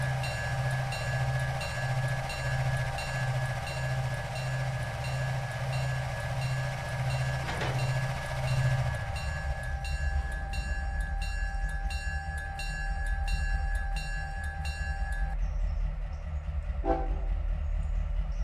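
An EMD GP-11 diesel locomotive of the Paducah rebuild type runs in the railroad game Railroader. Its engine drone holds steady under a long sustained horn tone, then shifts into a rhythmic mechanical clatter.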